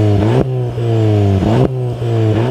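A Volkswagen Golf 7 GT Restyling engine revs repeatedly, loud and close, with rising and falling pitch and short throttle blips between pulls, and no talking over it.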